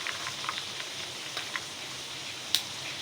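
Heavy rain falls continuously outdoors, a soft steady hiss with a few sharper drip or tap sounds scattered through it.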